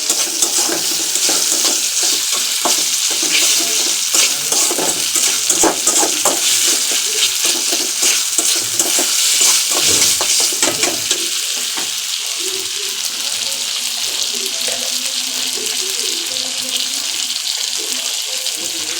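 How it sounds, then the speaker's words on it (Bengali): A ginger-garlic paste with salt is stirred and fried in a pan for bamboo-leaf chepa bharta, giving a steady bright sizzle with intermittent scraping of the spoon, loud and close. "ভালোভাবে মিক্স করে নিতে হবে।"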